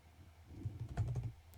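Fingers tap quietly on a computer keyboard in a short, uneven burst of clicks, close by and with no talking.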